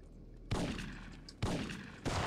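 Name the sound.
gunshots in the video game Syphon Filter 3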